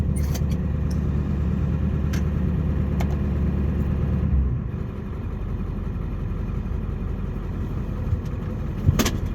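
A Ford 7.3 Powerstroke diesel truck rumbles steadily at low speed, its engine note dropping partway through as it rolls on, with a few faint clicks and a sharp knock near the end; no talking.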